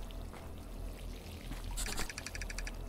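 Water leaking and pouring out in a horror video game, a low steady trickle that swells into a louder splashing gush with sharp dripping bursts near the end.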